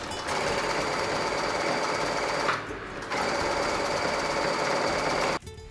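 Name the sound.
sewing machine stitching face mask center line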